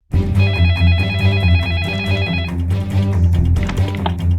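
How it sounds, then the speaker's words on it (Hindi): A telephone rings with a loud, repeating electronic trill that stops partway through, followed by softer scattered sounds, set in a Hindi television drama. "मैं जानती हूँ किसका फोन होगा।"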